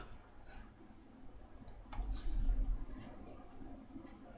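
Computer mouse clicks during a software tutorial, a few soft, quiet taps over a low room hum, sparse and close.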